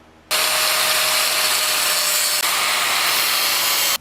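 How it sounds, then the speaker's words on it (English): A power driver sinks self-tapping screws through the sheet-metal floor of a 1966 Ford Thunderbird, giving one loud, steady whirring burst of about three and a half seconds with a brief catch near the end, and no voices. "run 2 new self-tappers right through the floor"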